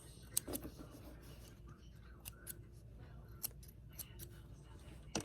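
Scissors trimming extra threads from a sewn craft piece, several sharp, separate snips spaced across a few seconds, close and fairly quiet.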